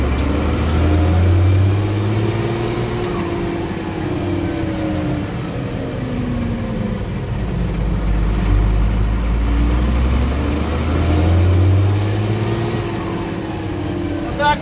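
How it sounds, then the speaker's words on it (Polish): A diesel engine fitted with a Motorpal 3120 injection pump revs to around 2000 rpm in third gear, with a loud steady low drone that slowly swells and eases, heard close from inside the vehicle. "I teraz wciskamy mu gaz do 2000 obrotów."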